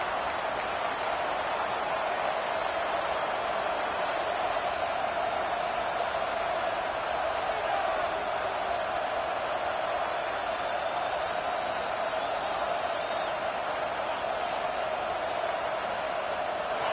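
Steady, dense roar of a large stadium crowd at a college football game, loud and unbroken throughout with no clear peaks, filling the whole stretch like wide-band noise.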